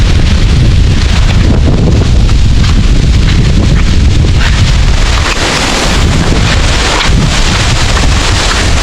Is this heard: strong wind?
yes